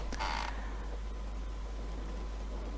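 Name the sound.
wooden church pew creaking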